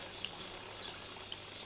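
Water drains from a marginal plant bed back into the tank of a container pond, making a soft, steady trickling hiss that stays faint and continuous throughout.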